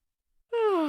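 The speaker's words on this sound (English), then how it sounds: "Yawning." A person yawning, a single voiced drawn-out exhale sliding downward in pitch, starting abruptly after near silence and fairly close.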